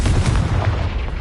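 A Confringo blasting spell erupts in the Harry Potter game world as a loud, close, rumbling explosion that sustains heavily for about a second.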